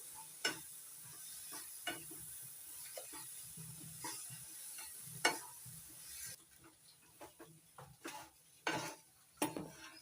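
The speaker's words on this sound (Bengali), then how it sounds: "ভালো করে মিশিয়ে নিচ্ছি সুজির সঙ্গে" A spoon stirs sugar into semolina in a pan for ripe mango halwa, giving soft scraping strokes and intermittent clinks against the pot at an irregular rhythm, close and fairly quiet.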